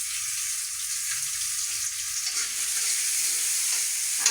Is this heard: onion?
yes